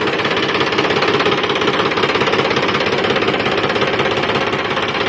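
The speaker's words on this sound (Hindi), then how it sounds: "ट्रैक्टर को तो स्टार्ट कर दिया है।" Farm tractor engine running steadily while hitched to a field leveller before mustard and gram sowing, a loud continuous rattling diesel chug close by with no talk.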